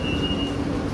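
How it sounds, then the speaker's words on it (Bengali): Metro train in Bangkok giving a steady, close rumble with a thin, sustained whine running through it, no voices. "এখান থেকে এবার আমরা মেট্রো ধরে"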